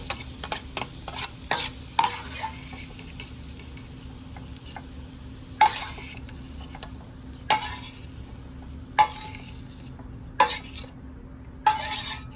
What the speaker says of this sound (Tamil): இதே திராட்சை போட்டு வறுத்து எடுத்துடலாம்.